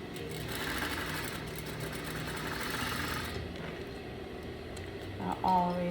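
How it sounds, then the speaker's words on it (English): A sewing machine runs steadily, stitching the corners of a fabric strip for a single welt pocket, a close continuous whirring that stops near the end as a voice briefly speaks. "I am gonna sew the corners of my strip"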